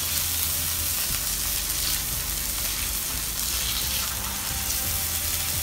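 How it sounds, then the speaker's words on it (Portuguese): Filet mignon sears in a very hot frying pan with a loud, continuous close-up sizzle that stays dense and steady throughout, no voices over it. "Numa frigideira bem quente, você já conhece. Vamos fritar ele, aquela casquinha bonita"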